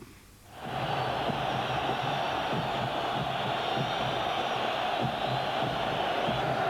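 A large football crowd at Hampden during Scotland v Northern Ireland roars in a loud, steady, distant wash of noise that swells suddenly after a quiet opening moment and holds for the rest.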